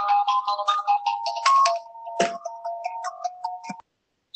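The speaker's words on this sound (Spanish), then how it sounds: "Se escucha ahí un celular" Mobile phone ringing during a legislative committee session, a repeating electronic melody of short bright tones that plays steadily for several seconds before cutting off, fairly loud and alone.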